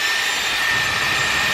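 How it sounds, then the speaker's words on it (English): A Dyson Airwrap pre-styling hair dryer runs with a steady, loud, close-up rushing whoosh and a faint high whine, without any voices. "Okay, so first I'm gonna take the pre-styling dryer."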